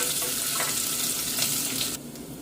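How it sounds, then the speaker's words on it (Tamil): Small onions frying in hot oil in a pan while being stirred, a steady close sizzle with soft scraping strokes that quiets slightly near the end, for a Tamil-style fried brinjal curry. "இப்போ நல்லா மிக்ஸ் பண்ணிவிட்டு வெங்காயம் நல்லா வதங்கட்டு"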